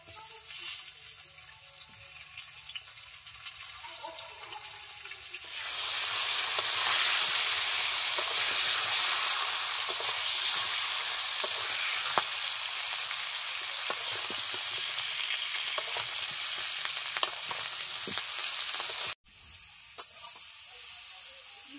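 Broccoli goes onto potatoes and carrots frying in a pan, and the quiet sizzle swells into a loud, sustained hiss that continues with small pops and crackles, then a brief clatter near the end.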